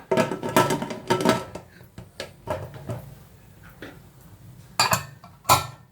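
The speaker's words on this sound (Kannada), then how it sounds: "ಕುಕ್ಕರ್ ಮುಚ್ಚಳ ಹಾಕ್ಬಿಡೋಣ" A metal pressure cooker lid is fitted and closed over mutton sambar: a string of sharp metallic clanks and clinks, close and loud, coming in uneven bursts.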